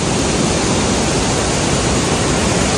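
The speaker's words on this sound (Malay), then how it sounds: "Air terjun ni halus ni." Air Terjun Lasir waterfall in a forest, a loud, constant broadband rush of falling water filling the whole clip with no breaks or voices.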